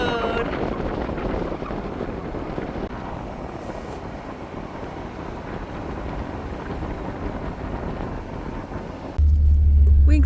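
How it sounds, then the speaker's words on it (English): Steady, loud road and wind rumble from inside a car driving along a highway through the White Mountains, with continuous buffeting and a sharp boost in low-end roar near the end. "Driving down the road."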